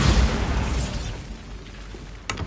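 A Bombarda spell detonates in Hogwarts Legacy: a loud, close boom at the start that decays into a rumbling tail, followed by a short sharp crack near the end.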